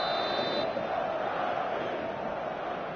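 A dense, steady roar of a stadium crowd fills a PS4 football video game match at night, a continuous loud wash of cheering with no breaks.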